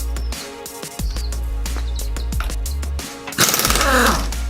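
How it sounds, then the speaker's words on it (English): An impact wrench removes the lug nuts from a 1994–2012 Mustang wheel. Short loud hammering bursts and ratchety clicks are followed by a longer rattling run, close up in a garage. "Get my impact wrench with the socket on it that came with these rims to get these lugs off."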